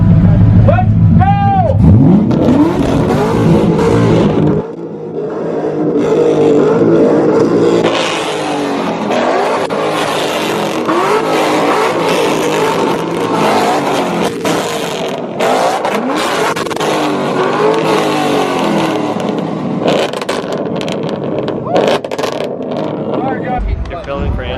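A Nissan 240SX exhaust revs loud and close in repeated surging blips and sustained roars during an exhaust battle, while people talk and shout throughout.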